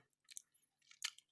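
Two crisp, close crunching bites into oatmeal mixed with chocolate chip cookies, quiet and isolated with silence between them.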